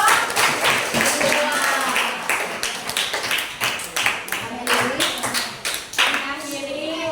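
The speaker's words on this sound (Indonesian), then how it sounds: "tepuk tangan untuk kelompok" A classroom of students claps for a group in a brief round of applause, uneven hand claps rising and falling while voices talk and call out over them.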